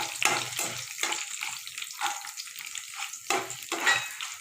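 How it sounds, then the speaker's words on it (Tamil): Garlic and dried red chillies frying in a pan, a close crackling sizzle with irregular stirring scrapes and small bursts of spattering oil. "நெக்ஸ்ட்டு காஞ்ச மிளகா, அதையும் போட்டு நல்லா வதக்குங்க."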